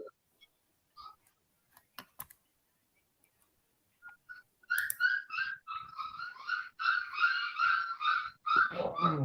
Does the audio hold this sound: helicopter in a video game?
no